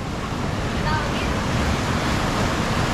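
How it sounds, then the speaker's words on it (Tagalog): Ocean waves at a beach in Eastern Samar, with large surf at high tide: a steady, loud roar of breaking water and wash, with wind buffeting the microphone. "Ingat lang tayo dahil malaki ang alon dito, lalo na pag high tide."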